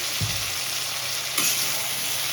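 Vegetables for dalia khichuri fry in a pan with a loud, even sizzle, while a spoon scrapes through them in a few brief stirring strokes near the start and middle; nobody speaks.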